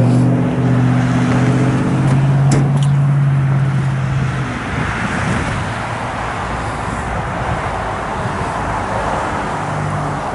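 A 1969 Chevrolet Camaro Z28 with a mildly built 383 V8, headers and dual exhaust idles outdoors in the cold, a steady low rumble that holds from start to finish, with a brief higher whine early on.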